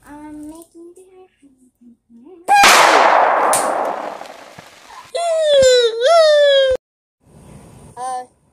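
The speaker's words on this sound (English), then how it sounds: "It was like a gunshot?" A sharp, loud gunshot-like bang that trails off, with high-pitched voices talking and calling out before and after it.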